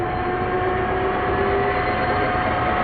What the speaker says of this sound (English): I think the important thing is you can hear the gearbox.